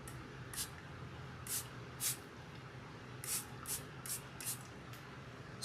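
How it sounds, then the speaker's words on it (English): Short spritzes from a spray bottle of apple cider solution misted onto hair, about eight brief hissing bursts at an uneven pace over a low steady room hum, close and fairly quiet. "Take your apple cider solution and spritz."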